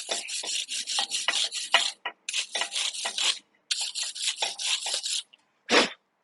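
Brisk rhythmic scrubbing of small car brake parts from a 2017 Cadillac XT5 wheel bearing job, close and fairly loud, in quick bursts with short pauses between.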